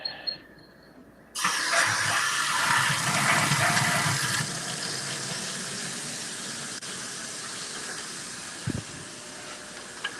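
Water rushes steadily for an aquarium water change, starting abruptly after a brief quieter lead-in, then a continuous hissing flow with a faint squeal that eases slightly in level, a small knock near the end.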